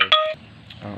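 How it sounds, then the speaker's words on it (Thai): Mobile phone beeps, two short bright tonal bleeps in quick succession at the start, then quieter low background noise. "ขออภัยในเสียงโทรศัพท์ด้วยครับ"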